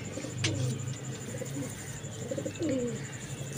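Ferozepuri breed pigeons coo in soft, repeated low calls, fairly close, over a steady background hum.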